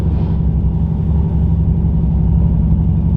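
Boosted, turbocharged truck engine running close by, a loud steady low rumble with deep harmonics that holds throughout without clear revs, heard on its own.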